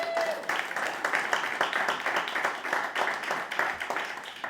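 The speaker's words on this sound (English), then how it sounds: "Y'all better clap for her." A comedy club crowd claps at a stand-up and improv show, a moderate wash of hand claps with a pulsing rhythm.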